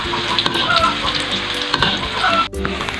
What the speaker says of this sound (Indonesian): Apabila api sudah panas, maka masukkan tempe yang sudah dipotong-potong tadi.